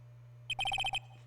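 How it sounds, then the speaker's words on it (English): Cell phone ringtone in the Phoenix Wright: Ace Attorney video game plays a quick, bright electronic trill of about six short repeated beeps over a low steady hum, alone without talk. "And what is with this stupid sounding ringtone?"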